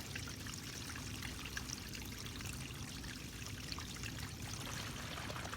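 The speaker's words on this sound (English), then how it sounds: "our gray water flowing." Gray water from an RV tank pours steadily through a drain hose, a continuous rushing trickle with a low gurgling rumble, close and constant throughout.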